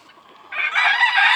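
A White Polish chicken clucks and squawks close by, starting with a faint murmur and then breaking into a loud, raspy, sustained call, with no talking.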